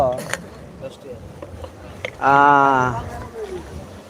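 A trawler boat cruises on open haor water, with a loud tonal engine or horn swelling for about a second amid steady water and wind noise, while people talk throughout.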